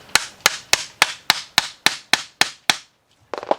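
A hammer strikes metal ten times in a steady, even rhythm, sharp and close, tapping an engine pulley flush with the alternator, followed by a brief pause and a quick cluster of lighter taps.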